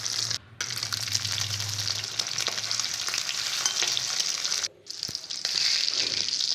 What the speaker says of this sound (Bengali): এখন আমি ডিমগুলো এক এক করে ভেজে নেব।